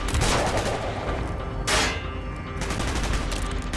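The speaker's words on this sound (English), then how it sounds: "Gunfire's drawing attention." Rapid gunfire from the Call of Duty: Black Ops video game, loud and continuous with bursts of automatic shots and a sharper blast partway through.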